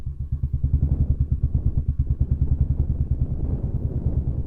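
A motorbike rides through a large old fort in Bijnor district, its engine putting out a steady, close, rapid low thumping that grows slightly rougher near the end.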